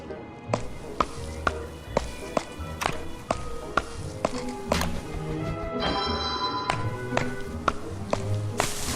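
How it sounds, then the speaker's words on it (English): Sharp, repeated wooden axe chops on trees in the video game Don't Starve land in a steady rhythm, roughly one per second, with a game-like tonal background hum between strikes. "You'll see a lot of me just chopping"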